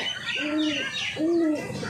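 Two soft, low pigeon coos, each a short rolling call, close by with a quiet pause between them and no talking.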